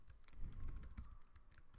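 A password typed on a computer keyboard, a quick run of soft, close key taps in an uneven rhythm, faint and with no one speaking.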